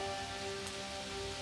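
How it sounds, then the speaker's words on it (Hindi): Steady, dense rain hisses down onto a river in an animated story, an even wash of falling water with no pauses and no voices. "उस जादुई बादल ने फिर से जादुई वर्षा कर दी उस नदी पर"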